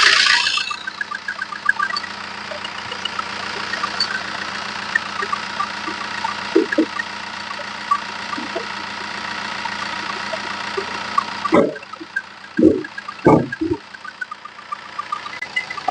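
A Chevrolet Sail diesel engine idles with a steady low, even drone that carries on throughout, while a few short clunks and knocks near the end break through the hum; no voices are heard.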